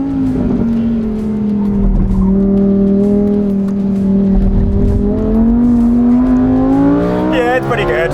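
A Lamborghini Huracan Sterrato is driven hard on a race track. Its engine note holds loud and close, rising and falling between revs, and tyre squeal builds toward the end.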